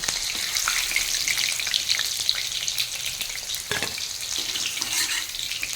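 Chicken pieces deep frying until crispy for chili chicken, a dense, loud, continuous bubbling sizzle of hot oil with an occasional stirring knock, close up and without talk.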